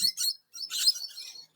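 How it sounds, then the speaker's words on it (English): Lorikeets, small parrots, chirp in botanical gardens in Bendigo, Australia, giving a few short, thin, high twittering calls in quick bursts with brief gaps between them, fairly close and with no one talking. "Lorikeets are parrots."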